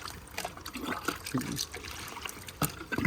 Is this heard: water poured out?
yes